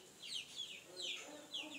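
Chickens cluck faintly and at a distance in a repeated series of short calls, recorded during slingshot hunting.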